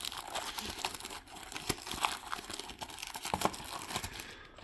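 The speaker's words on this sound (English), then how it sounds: "Get the plastic off." Plastic wrap crinkling and tearing as it is peeled off a Mini GT diecast model car box, close and busy with sharp crackles and rustles, no talk.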